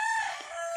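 A gamefowl rooster on a fighting-cock farm crows in a single drawn-out, high-pitched call, fairly loud and close, with no other sounds around it.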